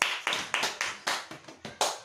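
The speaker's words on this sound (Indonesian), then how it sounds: "tepuk tangan untuk" A small online classroom group claps for a student named Julia, giving about eight distinct, fairly even claps in quick succession, close and clear.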